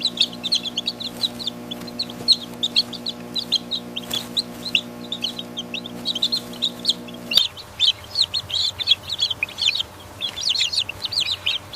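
Orpington chicks in a large egg-farm barn chirp and cluck in a busy, continuous chorus as they rush to red plastic feed pans filled with yellow corn, over a steady mechanical hum from the feed line that cuts out partway.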